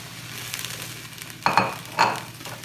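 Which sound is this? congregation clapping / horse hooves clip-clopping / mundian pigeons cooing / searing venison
searing venison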